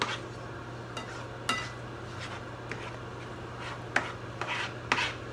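A utensil scraping and stirring eggs in a pan as they scramble, with soft rubbing strokes and occasional sharp clicks against the pan over a steady low hum.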